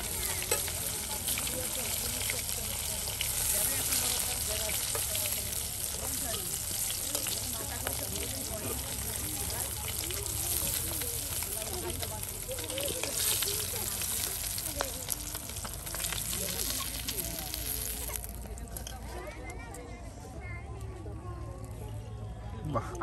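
Pieces of hilsa fish fry in oil with a continuous close sizzle and bubbling, and scattered stirring clatter breaks through. A voice talks over much of it, and the frying noise drops away near the end.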